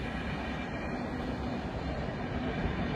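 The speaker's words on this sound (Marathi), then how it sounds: "ही ट्रेन आहे." A train rolls past close by, a dense, steady rumbling roar filling the whole few seconds without any break.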